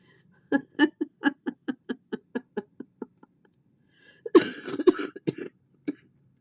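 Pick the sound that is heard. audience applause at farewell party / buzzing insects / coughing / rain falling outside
coughing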